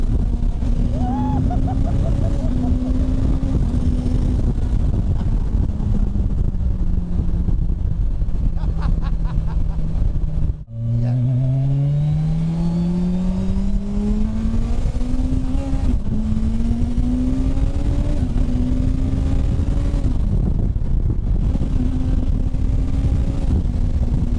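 Turbocharged Suzuki Hayabusa motorcycle accelerating hard while spinning its rear wheel, engine roaring and climbing through rising pitch sweeps with a gear change, loud and close throughout.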